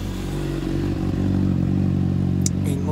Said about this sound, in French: et une moto qui fait du bruit.